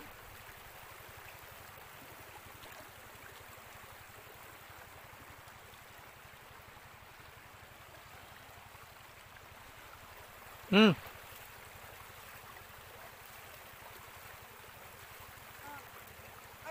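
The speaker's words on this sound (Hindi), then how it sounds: "अब कैमरामैन आपको दिखाएंगे नदी और नदी का पानी।" Faint, steady rush of river water flowing in the distance in Lansdowne, Uttarakhand, with one brief sharp knock partway through.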